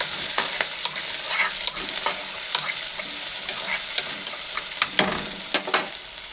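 Lentils and green chilies sizzle and crackle steadily in a hot pan, with sharp spattering pops and occasional stirring scrapes, close and alone with no talk.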